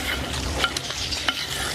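Chicken cooks in a pan, stirred with soft scraping strokes over a steady low sizzle, close and fairly quiet with no talking.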